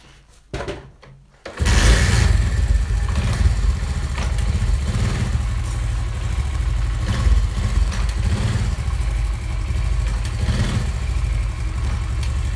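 A Honda CD 70 motorcycle engine starts and runs steadily near the listener after clutch adjustment, a loud continuous rumbling idle with slight rises as gears are engaged and disengaged, and no talking over it.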